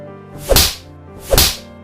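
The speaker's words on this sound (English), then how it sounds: "Yin quickly slapped both of Mona's cheeks very hard." Two sharp, loud slaps land about a second apart, each a crisp smack with a quick decay, no voices around them.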